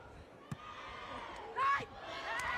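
The home crowd at a beach volleyball match in Gstaad cheers and whoops after a point, with a sharp shout rising midway over a background of distant crowd noise.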